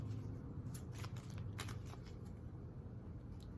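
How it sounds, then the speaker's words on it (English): A standard deck of playing cards, jokers removed, being shuffled at close range, with soft riffling crackles and bursts over a steady low background hum and no talking. "And I'll give the cards a quick shuffle."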